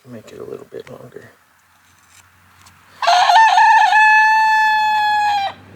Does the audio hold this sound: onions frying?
no